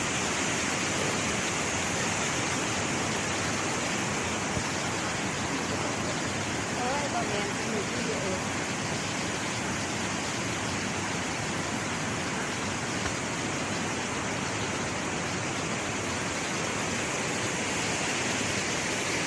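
The lower tier of Tad Kuang Si waterfall near Luang Prabang, Laos, rushes in a steady, dense roar of falling water that fills the scene without pause, with faint voices of visitors mixed in.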